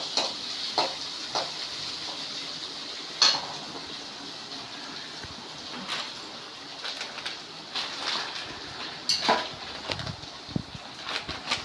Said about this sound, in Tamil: அது தக்காளியும் போட்டு நல்லா வதக்கிக்கலாம்.